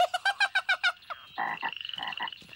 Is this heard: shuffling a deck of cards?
no